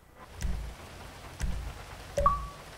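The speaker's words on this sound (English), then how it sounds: "It's raining." Rain falls steadily in GTA 5, a soft, even wash of noise with three low rumbling swells that could be distant thunder, and a brief tonal game chime near the end.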